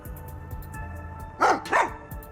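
Sugar the dog from the video game Rain Code gives two quick, close barks after a moment of quiet background sound.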